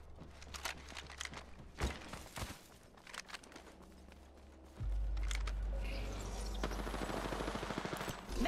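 Rapid automatic gunfire from a first-person shooter match in Apex Legends, bursts of shots crackling over footsteps and game noise, growing into a loud sustained stream with a heavy low rumble in the second half.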